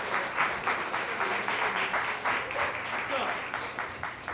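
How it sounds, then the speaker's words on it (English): An audience applauds a performer at the Milk Parlor, dense continuous clapping with pulsing swells, moderately loud and sustained throughout. "Please give him a round of applause."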